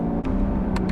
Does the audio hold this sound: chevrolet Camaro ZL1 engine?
yes